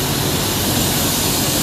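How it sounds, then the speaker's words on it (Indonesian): An Intra intercity bus pulls away from the AKAP bus terminal in Pekanbaru. Its engine gives a loud, continuous, close roar with no talk. "Nah ini bus Intra berangkat, yang Intra 26."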